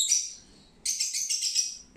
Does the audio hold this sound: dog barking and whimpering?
no